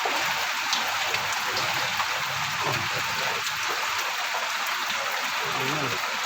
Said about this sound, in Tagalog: Sige, tuloy-tuloy ulan, magdamag.